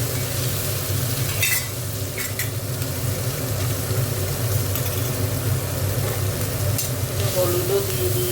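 Spices frying in a pan in a home kitchen, a continuous sizzle with occasional stirring scrapes, steady and close, over a low hum.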